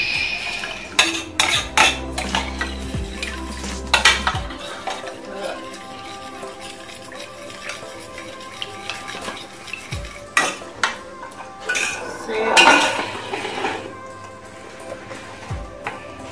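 A spoon stirs meat broth in a metal pot after chili goes in. Clinks and scrapes against the pot come in uneven bursts over a light sizzle, with a low hum early on.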